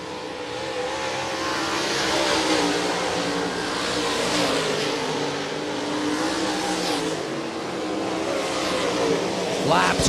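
Open wheel modified race cars roar continuously around Volusia Speedway, engines droning and revving as the pack circles, loud and sustained with commentary running over the top.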